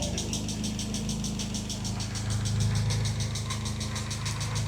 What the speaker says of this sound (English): Very noisy lifter.